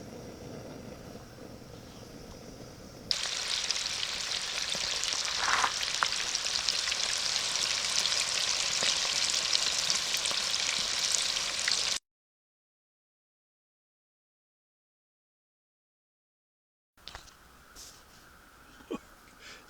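Squirrel meat fries in hot oil heated toward 350 degrees, giving a loud, steady sizzle and crackle that runs for several seconds, drops out, then returns faintly.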